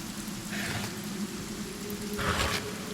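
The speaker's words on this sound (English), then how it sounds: "So we're now wet because we're standing in the rain" Steady rain falls in the video game Divinity: Original Sin, a continuous close hiss of drops with brief brighter splashy swells, heard alone.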